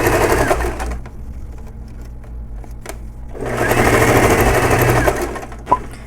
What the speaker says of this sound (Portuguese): Então, vamos para a máquina. Então, primeiro passo, vamos costurar o forrinho.